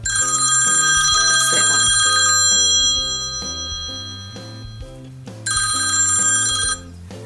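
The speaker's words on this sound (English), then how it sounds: "I think it's just the normal ringtone, really." A phone's standard ringtone plays a bright, repeating chiming melody up close and loud, fades briefly, then resumes, with a short spoken remark over it.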